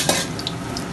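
Chopped onions and green chillies hitting hot mustard oil in a pot for chicken bhuna khichuri, a brief steady sizzle with a soft stir, close and fairly loud.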